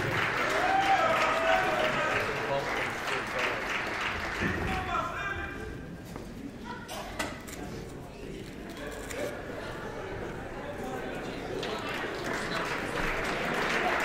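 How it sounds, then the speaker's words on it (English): A crowd applauds senior wrestlers at a high school wrestling senior night in a gym, with broad continuous clapping that swells loudest at the start, dips briefly midway and then picks back up, while a voice talks over parts of it. "Let's have another nice round of applause for our senior wrestlers"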